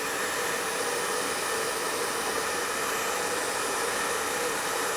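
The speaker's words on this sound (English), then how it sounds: "Bernoulli's principle can be demonstrated using this hairdryer and this ball." A hairdryer blows air at a ball in a science demonstration of Bernoulli's principle, making a loud, steady, broadband whoosh that holds unchanged throughout, with no talk.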